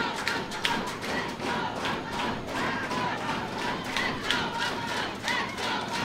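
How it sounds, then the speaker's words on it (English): A partisan home crowd of Villages SC supporters roars and chants steadily throughout a PDL Southern Conference championship soccer match, a dense, continuous wall of cheering with scattered thumps and shouts. "You can hear the decidedly pro, the Villages Buffalo crowd pulling for their side here in this championship match"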